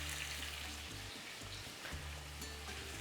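Red and green peppers with red onion sautéing in olive oil, a faint, even hiss of gentle frying with a low hum underneath, steady for a few seconds.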